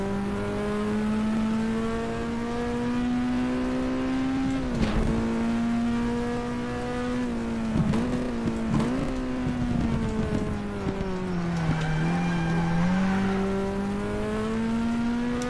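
A Porsche 908 race car engine in the racing game GTR2 at Brands Hatch drones steadily at high revs, pitch dipping and rising through gear changes and corners, with brief transient bumps along the way.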